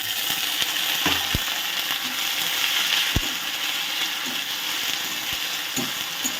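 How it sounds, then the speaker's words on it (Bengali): Ginger, garlic and green chili paste sizzles in fried onions in a pan for an okra dish, a steady close hiss with a few sharp taps and clinks, no voices. "এবার আমি এর মধ্যে দিয়ে দিচ্ছি আদা রসুন আর একটা কাঁচা লঙ্কা বাটা"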